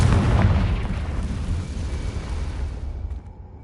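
Confringo blasting-spell explosion in Hogwarts Legacy, a heavy booming blast with deep rumble that decays over a few seconds into quiet.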